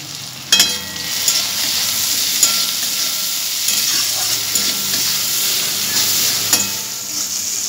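Spices with salt and turmeric frying in a pan, a steady loud sizzle with crackling and the scrape of stirring, punctuated by a few sharp knocks of a utensil against the pan.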